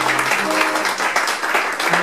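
Live concert audience applauding after the final number, a continuous crowd of clapping hands heard close, with a few held musical tones lingering underneath.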